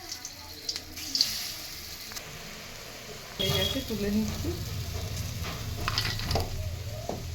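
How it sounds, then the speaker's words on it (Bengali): Small matar dal (split pea lentil) fritters frying in hot oil in a wok, with a quiet stretch of faint clinks giving way to a loud, steady sizzle and occasional stirring scrapes while a voice speaks briefly. "কড়াইয়ে তেল দিলাম, বড়াগুলো ভেজে নেবো"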